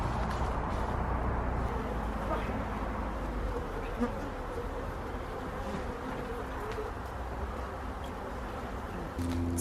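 Honeybees buzz steadily around a sugar syrup feeder near the hives, a dense, continuous insect drone heard up close with no talking.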